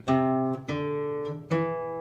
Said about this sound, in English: if I played a third on the guitar, it would sound like this.